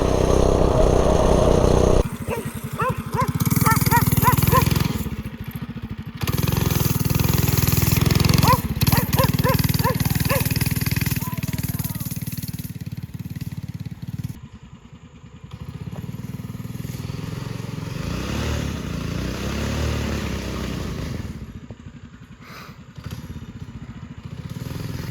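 A $90 minibike engine, pull started, runs and revs near the listener, a loud buzzing drone that rises and falls as it is throttled and then eases off toward the end.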